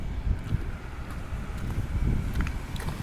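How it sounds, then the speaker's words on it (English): Wind gusts through a downtown street during a light snow flurry, a steady low rumble and buffeting against the microphone with faint scattered ticks, and no voices. "Wind has picked up a little too."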